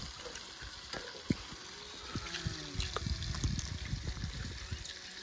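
Water is poured into a fatty meat curry cooking outdoors in a village. A light trickle and splash sit under soft crackling and scattered clicks, close by and fairly quiet.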